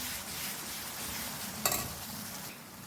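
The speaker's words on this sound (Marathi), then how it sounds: "आता हे सगळे मसाले आपल्याला भाजून घ्यायचे आहेत।" Ground spices (turmeric, red chilli, coriander and garam masala) roast in a kadhai with a continuous sizzling hiss and one sharp stirring scrape near the middle.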